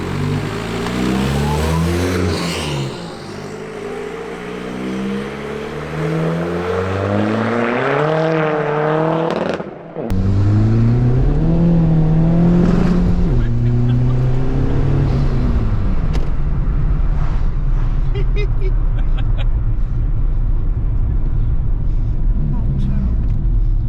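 A 330 bhp Skoda Fabia vRS with a 1.9 PD engine drives hard. It revs up loudly through repeated rising pulls, with a brief dip and gear change midway, then a steady, droning run.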